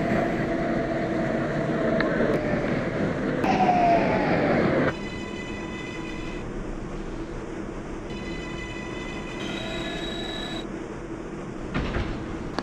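A Manhattan-bound 6 local subway train runs along its route, a loud steady rumble of wheels and motors with tonal whines and a shift in pitch as it travels, no talking.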